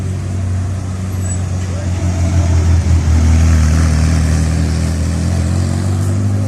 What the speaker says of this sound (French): Et là, t'as encore une autre Ferrari. Je vais me taire pour vous laisser écouter le bruit.